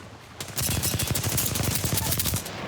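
Rapid automatic gunfire rattles out in a dense, loud burst lasting about two seconds in a video game, apparently Apex Legends, then cuts off abruptly.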